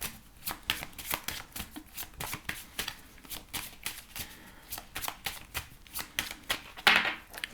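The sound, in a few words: shuffling Lenormand oracle cards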